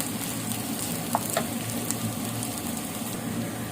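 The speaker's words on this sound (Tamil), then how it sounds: "வெங்காயம் நல்லா கொஞ்சம் வதங்கட்டும்" Onions sautéing in a pan, a steady, moderate sizzle running the whole time with a couple of brief clinks from stirring, no voices.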